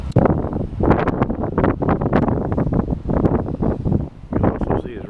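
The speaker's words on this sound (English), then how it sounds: "You can also see it's really windy." Strong wind buffeting the microphone outdoors on a chilly day, loud rumbling gusts that rise and fall throughout, with someone talking over it.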